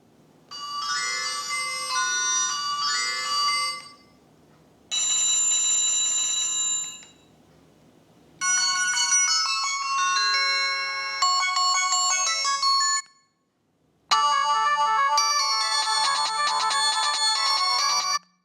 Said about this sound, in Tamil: ஸோ ரிங் டோன் வந்து வால்யூம் ப்ளே பண்ணி பார்க்கலாம்.